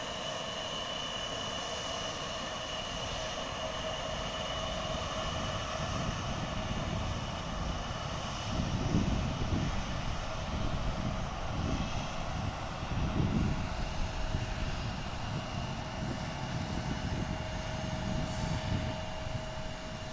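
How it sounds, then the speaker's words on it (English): A Horizon Air airliner in classic livery taxis at Portland International Airport with a steady distant engine drone and a faint high whine, swelling slightly at times over a constant outdoor background. "Here's our classic Horizon livery taxiing out."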